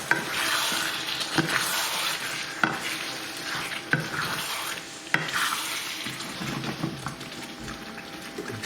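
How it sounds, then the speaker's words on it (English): Base gravy goes into a pan of lamb and chicken balti, which sizzles loudly and steadily while being stirred, with regular scraping strokes every second or so. "So again, add a little bit more base gravy."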